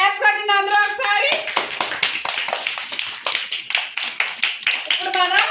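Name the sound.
children clapping hands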